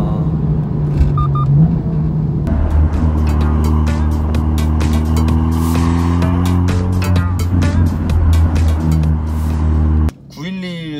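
A Porsche 911 sports car being driven on the road, its engine droning loudly and steadily up close with shifting pitch and road rumble throughout, before the sound cuts abruptly near the end.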